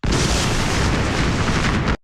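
Loud thunder effect in a rainy city film soundscape, a huge sustained booming rumble filling the whole clip close up, then cutting off abruptly.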